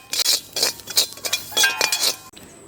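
Poppy seeds roasting in a pan give close, bright scraping and clinking strokes in a quick rhythm that stops abruptly near the end, with no voices.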